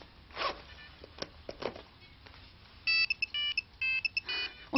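A mobile phone ringtone starts partway through as a series of short, bright, repeating melodic bursts at moderate volume. Faint rustling and soft movement noises come before it in a quiet room.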